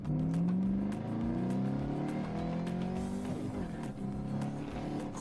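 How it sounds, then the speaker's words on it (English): A supercharged Ford Mustang GT500, rebuilt after a fire, revs hard with a loud, steady engine roar and supercharger whine, pitch climbing and falling through repeated throttle blips, close up with no talking. "that supercharger sounds mean"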